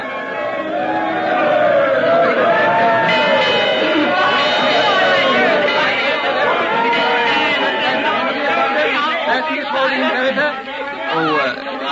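Dense crowd chatter fills a busy ship pier as passengers prepare to sail, many overlapping voices murmuring steadily and close throughout, with no single speaker standing out.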